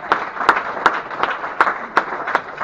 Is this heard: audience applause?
yes